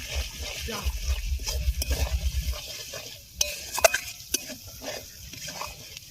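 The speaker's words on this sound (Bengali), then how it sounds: "আমি এটাকে এখন নাড়বো।" Potatoes frying with turmeric and salt in a clay pot are stirred with steady scraping strokes over a low sizzle, with a few sharp clinks of the spoon against the pot near the end.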